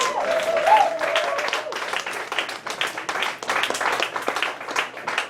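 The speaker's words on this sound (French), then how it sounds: "Une grosse main d'applaudissements" Applause at a slam poetry session in Bar Populaire, Montréal: a crowd's brisk clapping with distinct hand claps running the whole time, and a voice rising briefly over it near the start.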